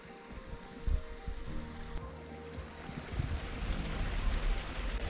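Rushing water of a small creek in flood after heavy rain, a steady broadband wash mixed with gusty wind buffeting the microphone; no voices, the flow building slightly louder toward the end.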